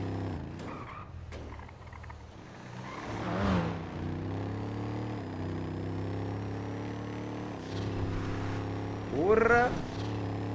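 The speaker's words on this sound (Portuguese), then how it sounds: "Caralho, olha o barulho do carro." A car engine in a video game revs and drones, with tire squeals and skids during an escape from a chase. Speech and excited voices break in over the game audio at moderate level.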